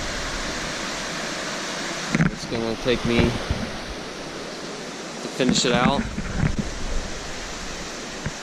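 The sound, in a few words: river flowing while hiker crosses it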